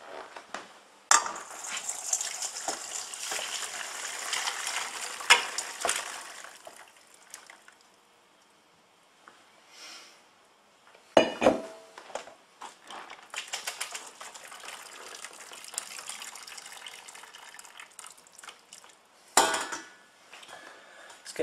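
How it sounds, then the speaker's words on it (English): Chicken noodle soup stock poured from a pan through a colander into a box, bursts of splashing liquid and clattering metal, with pauses of near silence between pours. "What we need to do now is to strain it to get all the bits out"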